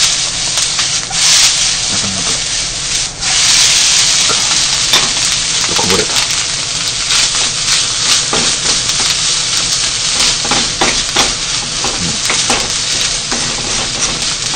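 Fried rice is stir-fried in a light, Japanese-made frying pan, giving a loud, continuous sizzle broken by repeated scraping and tossing strokes of a spatula against the metal.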